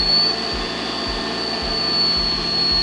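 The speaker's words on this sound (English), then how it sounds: "We say start and the machine will start chopping." A Wonderchef Chef Magic kitchen machine chops onion with a steady motor whine, punctuated by regular low thumps roughly every half second as the blades turn, loud and close with no talking.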